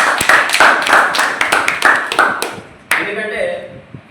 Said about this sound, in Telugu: క్రీడాకారులందరూ గట్టిగా చప్పట్లు కొట్టాలి.